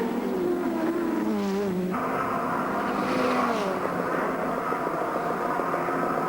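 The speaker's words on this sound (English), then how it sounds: "Brock really giving the Mobile Commodore what for as he heads down to Caltex Chase." Holden Commodore race car at speed during the 1987 Bathurst 1000, a steady loud engine roar with pitch sweeping up and down through gear changes, continuous throughout with no talk.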